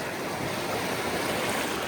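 Sea waves surge and wash steadily around a boat out on deep water during buoy fishing, a dense continuous rush with wind noise on the microphone and no pauses.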